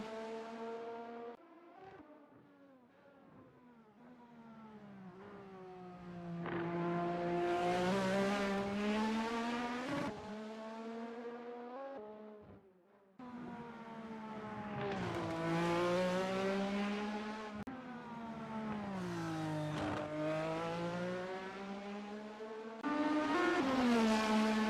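A Ferrari race car engine in a racing game hillclimb, revving hard through repeated gear changes with rising and falling pitch, loud and close throughout with brief drops between shifts.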